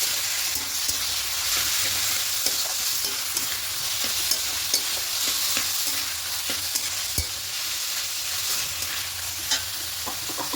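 Taro leaf curry being stirred with salt and sugar in a pan, continuous loud sizzling frying with frequent scraping stir strokes, close up with no talking.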